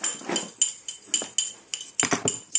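Salmon filling stirred with black pepper in a bowl, rapid clinking and scraping of a utensil against the dish in quick irregular bursts, close and alone.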